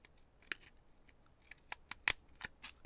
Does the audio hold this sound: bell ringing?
no